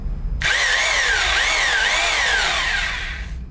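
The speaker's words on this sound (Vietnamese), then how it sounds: "Đây là chế độ khoan." A HUSPANDA 2801 rotary hammer drill in plain drilling mode starts abruptly and runs at a loud, steady high whine for about three seconds, the pitch wavering slightly, close and without speech.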